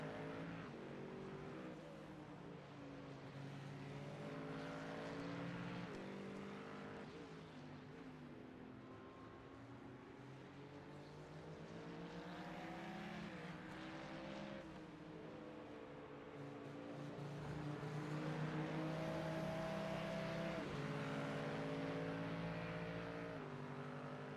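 GT3 race cars circulate in a sim racing league event, their engine notes whining and sweeping up and down through the gears. Several cars overlap in a steady, moderately loud drone with no voices.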